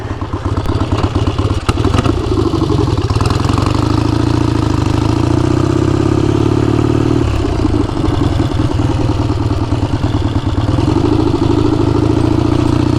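A kick-started motorcycle engine runs loud and close for the whole stretch, a steady clattering idle with a brief dip and recovery partway through, no voices over it.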